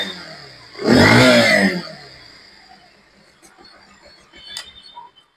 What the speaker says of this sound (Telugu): ఒకసారి ఇంజన్ కండిషన్ కూడా వినండి